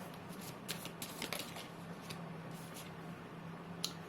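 A deck of advice cards shuffled by hand gives a soft, steady riffling and flicking, quiet and close, with a few brief louder snaps and no speech.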